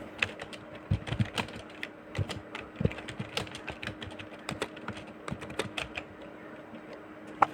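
Keyboard typing while a Facebook post is written, a steady run of light, quick clicks with short pauses, close and fairly quiet, with no talking.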